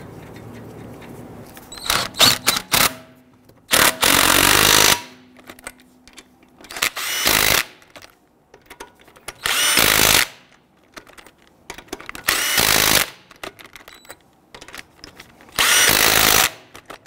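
A power tool snugs down lug nuts on a 2011-2019 Ford Explorer front wheel, sounding in six loud bursts of a few seconds each with quiet gaps between, nearby and with no talk.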